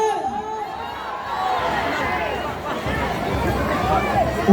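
A large outdoor crowd gathered for Duterte's 80th birthday mills about, its steady murmur of many voices running throughout, with one nearer person talking over it.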